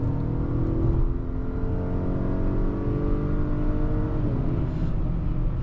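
A 2025 Acura RDX accelerates with a steady engine hum whose pitch climbs smoothly, heard from inside or near the car at moderate loudness, with no talk over it.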